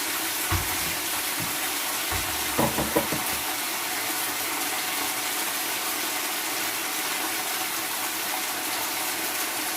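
Stir fry sauce poured into a hot pan, giving a steady broadband hiss and sizzle throughout, with a few brief clatters of utensils near the start.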